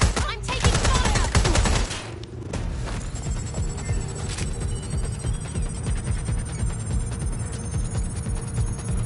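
Gunfire in the video game Watch Dogs: Legion, with a loud, dense burst of shots for about two seconds, then continuous lower rumbling and scattered combat noise, with voices faintly present.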